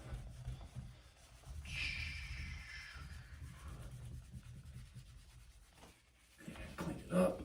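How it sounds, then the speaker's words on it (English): A whiteboard being erased during a first-grade math lesson, a close, steady rubbing swish that sweeps back and forth, with a voice briefly speaking near the end. "Let me erase all this."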